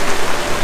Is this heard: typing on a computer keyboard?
no